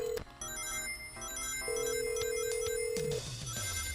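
A telephone rings in a Sonic video game, Knuckles' Week at Sonic's, with a synthetic bell tone sounding in repeated bursts over game music, fairly quiet overall.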